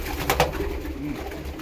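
Female pigeons coo faintly amid a noisy coop backdrop, soft low calls blending with a steady rumble and a couple of brief sharp knocks early on.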